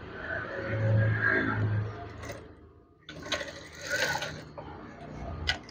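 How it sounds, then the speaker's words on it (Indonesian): A sewing machine runs close by, stitching folded soft vitrase curtain fabric in two bursts of whirring with mechanical clatter and a short gap between them. "Oke, kemudian sewing."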